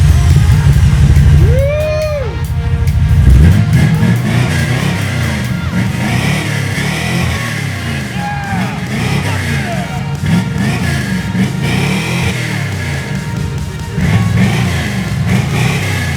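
A 454 engine with new Thrush mufflers rumbles loud and close, with a deep throaty idle that swells into rising and falling revs. Voices talk over the exhaust.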